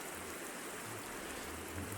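Rain falling in a modded Minecraft world, a faint, steady patter and hiss without pauses or talk.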